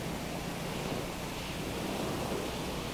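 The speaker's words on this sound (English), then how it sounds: "I'm still getting hit pretty bad with these waves" Ocean waves in the Stormworks game washing against a hydrofoil boat, a steady broadband surging hiss with no distinct breaks, fairly loud and uninterrupted, with no voices.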